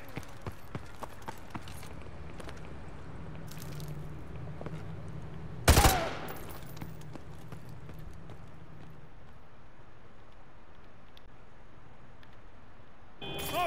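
A single loud, sharp gunshot rings out in the Call of Duty Modern Warfare 2 campaign remaster, standing alone above a low, steady ambient bed with a few faint ticks before it.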